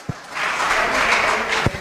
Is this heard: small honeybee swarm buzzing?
no